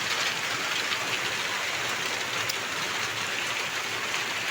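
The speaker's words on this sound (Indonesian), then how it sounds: "Oke, hujannya lumayan deras teman-teman." Heavy rain pours down steadily on a farm plantation with a shelter hut, a dense, continuous close hiss without pauses or talk.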